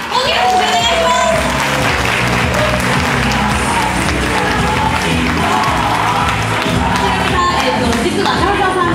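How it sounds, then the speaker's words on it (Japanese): A theater crowd at a live party event gives loud applause for the MC, with cheering mixed into dense, continuous clapping that fills the room at close range. "皆さん大きな拍手でお願いします"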